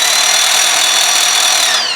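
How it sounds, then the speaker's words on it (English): Cams on a Land Rover 300Tdi engine knock against a roller while the engine is turned by a drill, giving a loud, continuous, close-up buzzing rattle. "cams hitting the roller and knocking it up."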